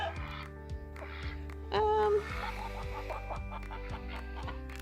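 Chickens cluck and murmur inside a backyard pen, close and steady, with one louder squawk partway through over a constant low hum.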